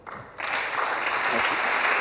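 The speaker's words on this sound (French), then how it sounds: "Allez, tonnerre d'applaudissements." Audience applause starts suddenly, and a crowd of many hands claps loudly and densely in a large room at a startup contest finale.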